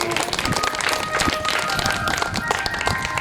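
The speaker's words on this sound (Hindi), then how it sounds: "एक बार जोरदार ताली हो जाए हमारे शर्मा जी के लिए" An audience at a Shrimad Bhagwat Katha gathering in Mundera claps for Sharma ji, brisk close-up clapping with a faint tonal hum underneath, lasting a few seconds.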